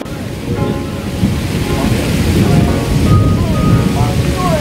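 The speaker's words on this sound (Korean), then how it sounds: "비가 많이 쏟아지고 있습니다 소나기 같은데" Heavy rain shower pouring down on a mountain during a mountain-bike outing, a dense, steady roar of rainfall throughout with faint voices mixed in.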